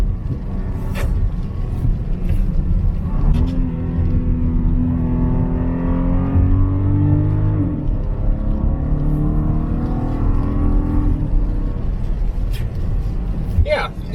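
A 2021 Volkswagen Atlas SE with a VR6 engine accelerates from inside the cabin, its engine note climbing in pitch through the gears as a steady, moderate drone beneath continuous talking.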